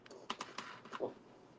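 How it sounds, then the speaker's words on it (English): Scissors snip and crackle through the plastic wrap on a pack of canning jar lids, a few quick close cuts and rustles, fairly quiet. "So we're just going to take my scissors and open it now."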